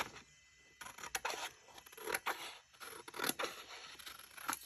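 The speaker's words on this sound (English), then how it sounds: "I think what I want to do is I want to cut that off." Scissors cut off the corner of a sheet of paper with a few close, crisp snips and scrapes in short bursts after a quiet start.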